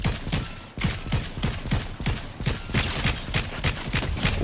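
Rapid bursts of video game gunfire crack out in a steady rhythm of repeated shots, loud and close, with brief pauses between volleys and no talking.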